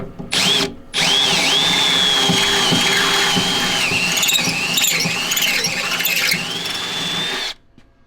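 A power drill with a step bit bites into Jeep TJ metal with a loud, wavering high-pitched squeal, briefly stopping once early on, then grinding steadily before cutting off.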